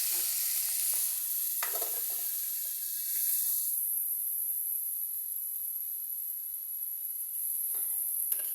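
Capsicum and mixed vegetables frying in a pan, giving a continuous close sizzling hiss with a few stirring scrapes and no talk.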